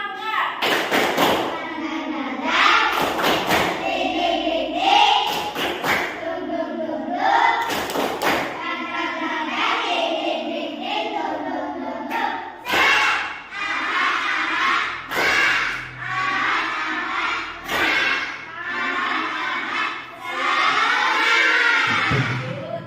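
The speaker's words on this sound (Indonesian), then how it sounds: "Tepuk semangat." A classroom of children performs a rhythmic spirit clap, with sharp, evenly spaced claps and thumps mixed with loud chanting and shouting voices, close and lively throughout.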